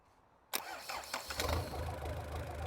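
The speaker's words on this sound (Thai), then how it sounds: "ตอนนี้เครื่องเราก็ติดแล้วนะครับ ติดได้เร่งได้ปกตินะ" A car engine is cranked and fires up with no battery connected, a sudden loud catch followed by a rough, rising idle that settles into a steady running rumble close by.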